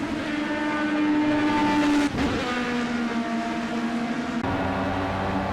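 Formula B race car at Imola in Project CARS, seen from a helmet cam, its engine droning loud and steady before pitch drops sharply under braking and climbs again through overtaking gear changes.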